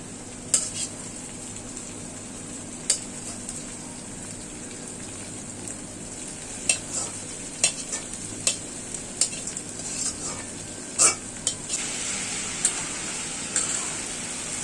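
Leafy greens go into a pan of deeply reddened fried onions and are stirred, giving a continuous close sizzle broken by sharp scraping and clanking strokes from the spoon.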